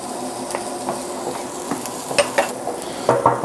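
Garlic sizzles steadily in a hot pan for lobster bisque, with a dense continuous crackle broken by several sharp scraping clicks of a spoon stirring against the pot, close and moderately loud, no voices.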